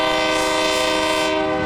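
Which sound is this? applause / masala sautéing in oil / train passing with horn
train passing with horn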